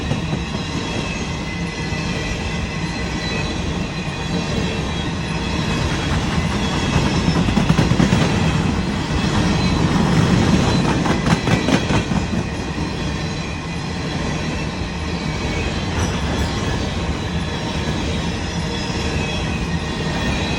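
A BNSF coal train rolls past with distributed power locomotives, a steady heavy roar of rail cars with rhythmic clickety-clack and wheel squeal, swelling as the mid-train units pass close by, with no talk.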